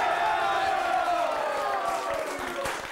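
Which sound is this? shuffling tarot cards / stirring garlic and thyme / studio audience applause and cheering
studio audience applause and cheering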